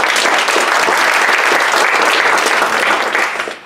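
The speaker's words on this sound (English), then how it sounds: "Give him a clap." Audience applause at a fintech investor panel session in Sydney: a thick, steady roar of clapping from the crowd that holds for several seconds, then quickly thins and fades.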